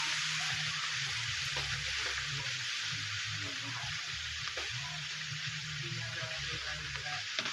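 Mustard greens fry in bacon grease in a pot, giving a steady, moderately quiet sizzle with soft crackles and some low stirring sounds underneath, and no talk.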